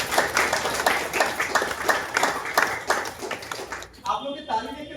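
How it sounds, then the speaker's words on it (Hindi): An audience at a health-product talk claps in a loose rhythmic series of fairly thin claps, before a voice starts speaking near the end. "आप लोग के ताली देख के लग रहा है कि आप थक रहे हैं, तो ताली का आवाज कम लग रहा है।"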